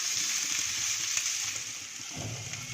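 Vegetable stuffing for stuffed tomato vada sizzles softly in a pan over a low gas flame, a steady close hiss with a brief stirring scrape near the end.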